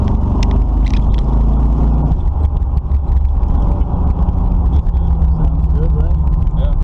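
A Camaro engine runs close by right after a carburetor install, idling with a loud low rumble that shifts as gas is applied, while a person talks over it.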